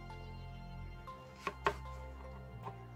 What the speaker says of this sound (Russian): Резать я его буду полукольцами.